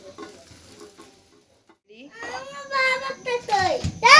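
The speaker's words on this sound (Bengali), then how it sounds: "অ্যান্ড দেন যে ডিমটা করেছি সেটা ভালো করে ফ্রাই করে নিচ্ছি" An egg frying in a pan makes a close, rising sizzle and crackle that grows louder toward the end. A stretch of near silence comes before it, and a voice is heard briefly in the background.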